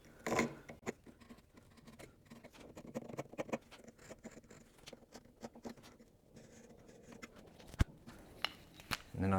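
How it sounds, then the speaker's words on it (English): Knife blade scoring a line around a piece of wood for a corner bracket joint, a string of small scratchy, pattering cuts and clicks close by, quiet with occasional louder taps. "Knife line around this."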